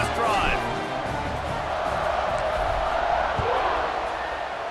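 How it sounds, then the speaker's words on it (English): A stadium crowd in the video game EA Sports College Football 26 roars with a sustained, loud wash of cheering that carries through the whole stretch, with a few sharp accents poking out of the din. "this crowd is feeling themselves after that last drive"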